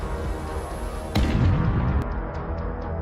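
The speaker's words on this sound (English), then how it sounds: "then hit again from the front, causing a massive explosion" A massive explosion as a drone strikes a Russian tank head-on during a tank offensive: a sudden heavy blast over a low rumble, followed by a rolling boom that fades, with a few sharp pops after it.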